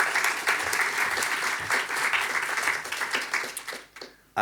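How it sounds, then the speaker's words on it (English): A conference audience breaks into a round of applause for panelists, dense clapping that holds steady for about four seconds, then tapers off quickly before an abrupt cut. "Can I have a welcoming round of applause for our panelists, please?"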